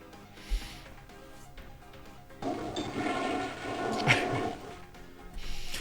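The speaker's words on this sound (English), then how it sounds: "thank you for flushing your coins down the toilet" A toilet flush effect from the World Builder video game rushes in midway as a loud, broad swirl of water lasting a few seconds, following a quieter stretch with a brief knock near the start.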